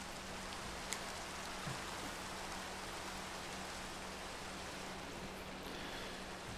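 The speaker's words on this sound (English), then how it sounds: "it's pouring rain" Steady, dense hiss of heavy rain pouring down in Minecraft at night, without a break, fairly soft and even throughout.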